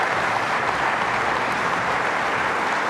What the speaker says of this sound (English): So can we have a big round of applause for them,